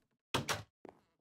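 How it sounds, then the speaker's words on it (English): A wooden door in Minecraft closing: two quick, close, solid thunks in a row, followed by a fainter knock-like sound and a brief third tap at the end, with no talking. "Close the door."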